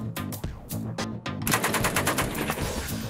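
An automatic gun firing outdoors, a fast, continuous burst of close, loud shots in rapid rhythm that grows denser after the first second, with no voices over it.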